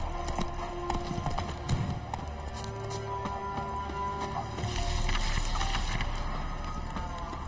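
A horse in a video game trots along with steady, close clip-clop hoofbeats for several seconds, moderately loud and alone, with a faint wash of ambient game sound behind it.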